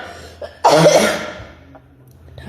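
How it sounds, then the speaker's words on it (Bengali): A person gives one loud, close, harsh cough with a throat-clearing edge, then quiet breathing as it fades. "ঠান্ডাটা কমে গেছে কিন্তু কাশিটা কমছে না"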